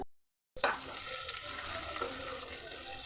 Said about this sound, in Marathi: कांदा चांगला लालसर परतून घेतलाय मी